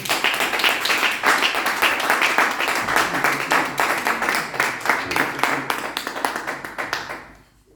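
A church congregation applauds with loud, dense, rapid clapping that holds steady for several seconds, then thins out and fades away at the end.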